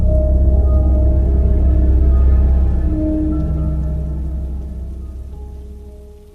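Steady rain falls with a low rumbling undertone like distant thunder, loud and continuous with no voices, slowly fading toward the end.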